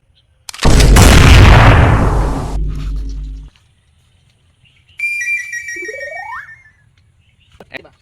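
Gunshots in a game or dramatic scene, a sudden loud close blast with a long decaying roar lasting several seconds, followed later by a ringing electronic tone, with talk in the clip.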